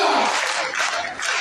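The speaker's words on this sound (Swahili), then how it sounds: "Tupigie waziri makofi" An audience applauds a minister at a World AIDS Day commemoration at Kibabii University, a short, dense burst of clapping from a crowd, fairly loud and close.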